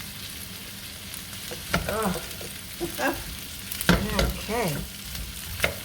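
Rice dumped into a hot pan for fried rice and broken up, sizzling and frying throughout with scraping stir strokes; a voice says a brief word near the end.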